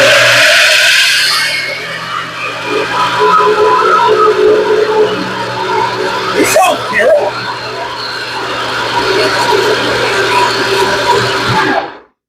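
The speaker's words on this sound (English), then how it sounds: "Gonna blend this up for about 10 seconds and see what happens" A failing blender whirs loudly and steadily for around ten seconds, blending a cocktail, a voice occasionally rising over the motor, before it cuts off abruptly.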